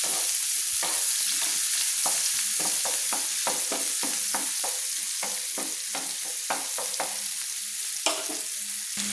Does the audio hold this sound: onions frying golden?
yes